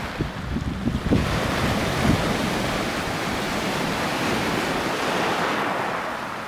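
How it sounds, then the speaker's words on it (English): Steady broadband wash of surf breaking and rushing over coastal rocks at Lizard Point, with a few sharper splashes early on and wind noise throughout. "You can sit and watch the waves coming in over those rocks all day."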